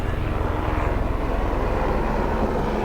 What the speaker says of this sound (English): you've got this helicopter overhead. It keeps going back and forth with building materials.